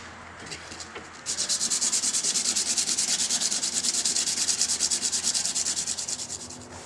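A small metal part from a 1906 project is hand-polished with 180 grit sandpaper. After a quiet start, rapid, even back-and-forth rubbing strokes go on for over five seconds, close and fairly loud.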